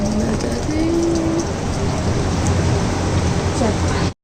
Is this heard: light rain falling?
yes